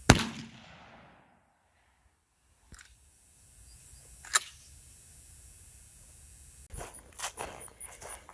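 A 12 gauge shotgun firing 00 buckshot at a range, one loud close blast that rings out and fades, followed by faint outdoor rustling, footsteps and handling noises.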